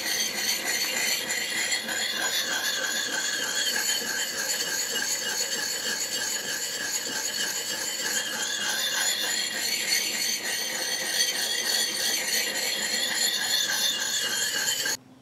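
A sharpening stone scraping along an axe edge, a continuous high squealing rasp that holds steady throughout, close up and alone with no talk.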